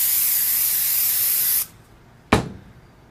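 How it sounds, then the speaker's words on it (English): Die Lube 2000 thin lubricant sprayed onto ejector pins, a close, steady hiss of aerosol for about a second and a half that stops, then a single short burst spray. "I spray it onto my ejector pins"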